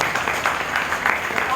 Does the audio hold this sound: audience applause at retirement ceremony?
yes